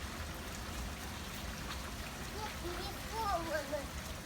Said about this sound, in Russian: Дождик, дождик, дождик.